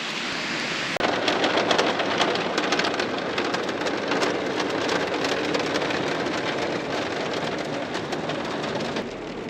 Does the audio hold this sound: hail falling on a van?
yes